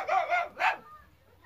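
A dog in the Last Day on Earth video game gives two or three quick, sharp barks close together, loud and clear, then falls quiet with only a faint background.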